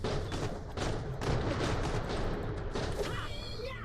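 A grenade goes off during a video game, with a dense burst of loud crackling blasts and gunfire-like bangs that fills the clip and then tails off.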